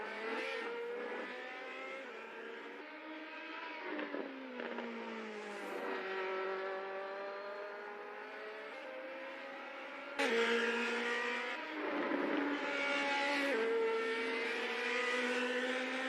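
Race car engines in a New Zealand virtual racing league sim game, harmonic whines rising and falling through gear changes for the whole stretch, with a sharper surge of revving midway; steady and loud, no talk.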